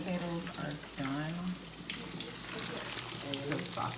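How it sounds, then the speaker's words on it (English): Red snapper fish frying in hot oil for a seafood boil feast, a steady sizzle and crackle with a few spoken phrases over it. "So the fish is frying. We have the fish frying."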